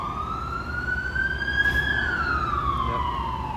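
An emergency siren wails loudly and steadily, its tone climbing slowly and then sliding back down, over a constant low rumble of background noise.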